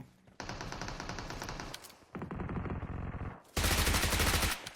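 Three loud bursts of rapid automatic gunfire in a video game, each lasting about a second or more, separated by short gaps.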